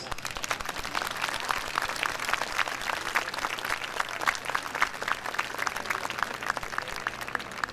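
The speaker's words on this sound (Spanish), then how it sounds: "Denle un aplauso a los maestros." An audience at an international education congress breaks into sustained, dense applause, many hands clapping together in a steady roar that stays even and continuous throughout.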